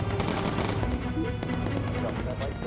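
Rapid bursts of .50-calibre machine gun fire from a bomber's gun turret in the video game Bomber Crew, dense repeated cracks over a constant engine drone.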